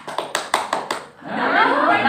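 A teacher in a microteaching classroom demonstrates a clap pattern: six crisp, evenly spaced hand claps close up, followed by her speaking voice.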